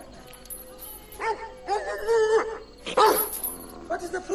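A dog barks in several short, separate bursts, close by and fairly loud, with voices mixed in around the barking.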